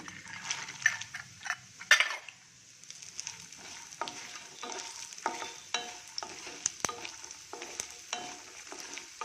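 Makhana (fox nuts) fry in a pan with a light crackling sizzle, broken by frequent close scrapes and taps of a spoon stirring against the metal, heard alone.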